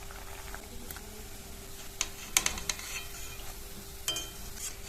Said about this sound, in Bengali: বাকিগুলো দিয়ে একইভাবে ভেজে নেব।